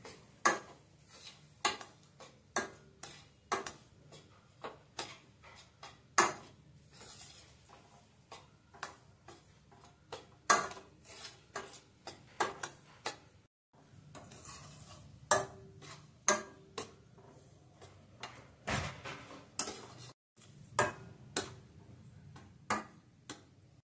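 Semolina dry-roasting in a pan over medium heat, with a steady run of sharp spoon or spatula ticks and scrapes against the pan throughout, close and fairly quiet.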